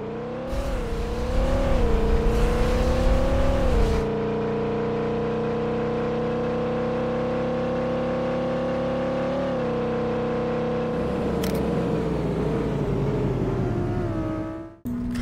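A car engine in the Roblox game Drive World drones and revs continuously, pitch rising and settling in smooth sweeps, with a brief louder surge near the start and fading at the end.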